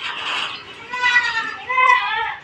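Goats on a farm bleat in a few wavering, nasal calls one after another, close and clear, without talk.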